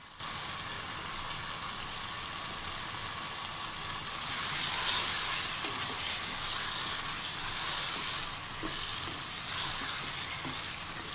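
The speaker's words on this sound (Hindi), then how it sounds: "तकरीबन 5 मिनट हो गए हैं मुझे इसको भूनते हुए" Potato and peas curry (aloo matar) sizzles in a non-stick pan over high heat, a continuous close crackling fry that swells slightly midway and carries on with no voices.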